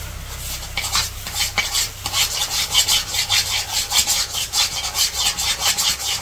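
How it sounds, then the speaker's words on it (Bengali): Mustard paste being stirred and fried in a pan, with rhythmic scraping strokes of a spoon repeating close up over a soft sizzle, no voices. "সরিষা বাটা দিয়ে ভালো করে মিশিয়ে আরো ভালো করে ভেজে নিব।"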